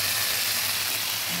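Chickpeas frying with spices in a pan for chole masala, giving a constant, close, hissing sizzle with faint stirring scrapes and no talk.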